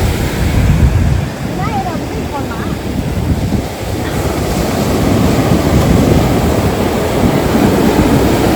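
Sea waves wash onto a beach in a loud, continuous roar, with wind buffeting the microphone and brief voices talking over the surf.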